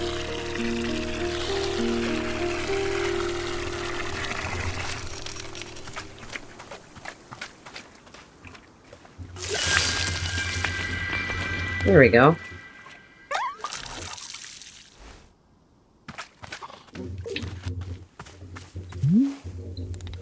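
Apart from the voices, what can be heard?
watering can filling and pouring water, video game Wanderstop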